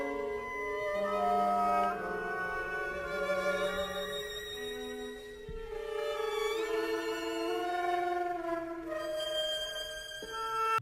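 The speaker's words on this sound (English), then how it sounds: "That's a 12-tone piece by Anton Webern" Anton Webern's twelve-tone serial piece, sparse instrumental lines of sustained and shifting tones moving unpredictably, steady and moderately loud throughout with no talk.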